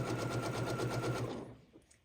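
A sewing machine runs a fast zigzag stitch over the edge of elastic, its needle pounding in a rapid even rhythm up close before slowing and stopping, leaving a few faint mechanical clicks.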